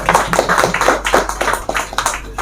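An audience claps loudly to welcome a speaker at a launch event. The applause is a dense, continuous patter of many hands, steady and close, with no voices over it.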